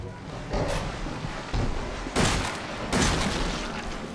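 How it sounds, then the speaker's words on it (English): Heavy gunfire in Resident Evil 7, with loud booming shots roughly every second, each followed by a rumbling tail over steady game noise. "Aim and shoot. Why did I fall? Just keep firing at him."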